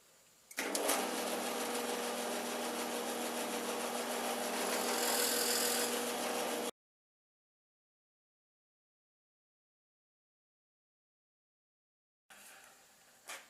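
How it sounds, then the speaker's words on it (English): A drill whirs loudly and steadily for several seconds boring counterbores in wood, then stops; after a silent gap, another brief burst of drilling starts. "I'll just go ahead and drill these 4 counter bores."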